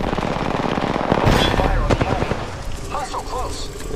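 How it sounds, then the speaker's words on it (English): Enemies in a video game fire guns in loud, rapid automatic bursts, close and dense at first and then thinning out, while a player talks over the gunfire. "The enemies are shooting at me."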